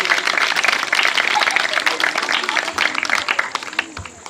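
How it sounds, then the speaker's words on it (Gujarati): An audience claps in sustained, dense applause at a school annual function, fairly loud and close, with a voice speaking over the clapping. "જોરદાર તાળીઓ."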